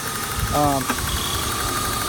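A BMW car engine idles steadily with a faint, rapid ticking from misaligned lifters running through it, heard up close, while a voice briefly speaks over the hum.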